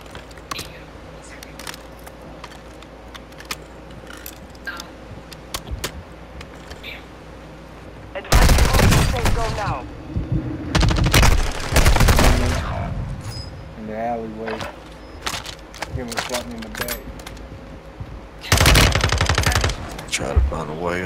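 Loud automatic gunfire bursts in Call of Duty: Warzone, several sharp sustained volleys separated by quieter stretches of game ambience and footsteps, with voices talking between them.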